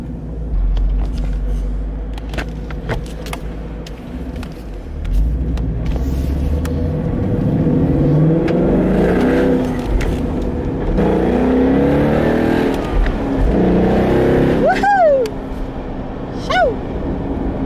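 A Ford Mustang GT with a 6-speed gearbox rumbles and revs while being driven, its deep engine note swelling and falling continuously from inside the car, with voices talking over it.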